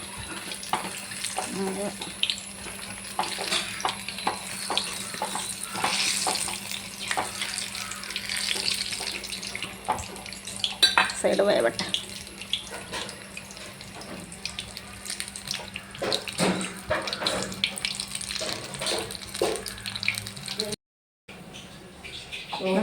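Tap water runs into a kitchen sink while dishes are washed, a steady splashing stream with clinks, continuing under occasional speech and stopping briefly near the end.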